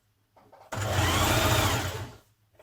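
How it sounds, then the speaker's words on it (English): A sewing machine runs steadily for about a second and a half, stitching a narrow double-turned hem along the bottom of a blouse, with faint handling sounds just before and after. "we're just going to stitch a narrow hem at the bottom"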